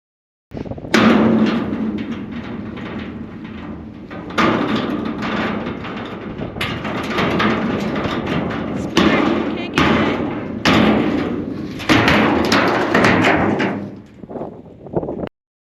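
The steel wall of a shipping container being bashed out from inside: loud hollow metallic thuds and bangs come in repeated bursts, close and reverberant, with brief pauses between.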